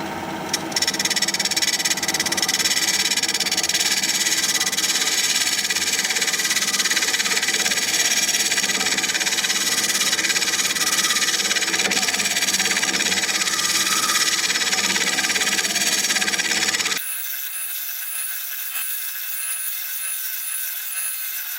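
A wood lathe spins a vase at about 1,000 RPM, a steady loud motor drone with a gritty rubbing, rasping texture. Near the end it cuts to a thinner, quieter hum.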